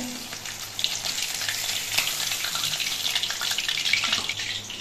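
Pabda fish fry in a generous amount of spattering oil, producing a loud, steady, close crackling sizzle with dense popping bursts that continue throughout, without any voices.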